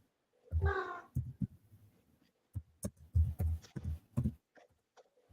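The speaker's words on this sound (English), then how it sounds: "The cat almost talks to you." A house cat gives a drawn-out, harmonic meow near the start, followed by people chatting casually nearby.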